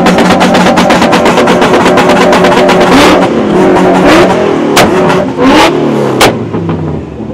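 A crowd of cars rev their engines together at a Toronto car meet, loud overlapping throttle blips and sustained revs with rising and falling pitch sweeps, plus sharp pops, all close and continuous for several seconds.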